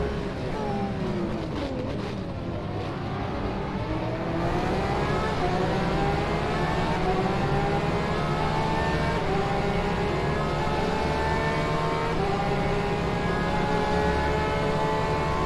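Porsche 911 RSR GTE race car engine in the rFactor 2 racing game at Le Mans, a steady, loud motor whine climbing in pitch as it accelerates, heard alone without talk.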